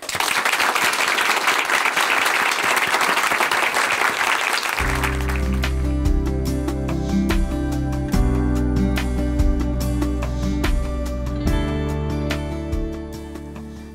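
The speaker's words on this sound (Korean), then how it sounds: "춘천 한마음교회 한순옥 자매님 박수로 모시겠습니다" Church congregation at Chuncheon Hanmaeum Church applauds to welcome a woman to the stage, dense clapping for about five seconds before warm organ or piano chords take over with scattered claps continuing beneath.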